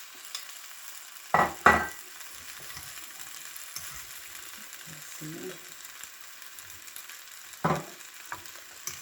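Baby peppers go into a vegetable stir-fry and hit the hot pan with a couple of sharp rattling bursts, then a faint steady sizzle with occasional scraping and clatter, close by and without talk.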